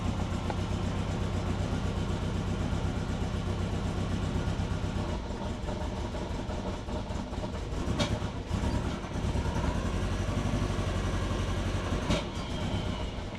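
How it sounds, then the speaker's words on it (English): Engine of a Subaru Forester running up close, a loud, steady low rumble that shifts slightly as light throttle is applied, with no talking. "Just giving it a little bit of throttle."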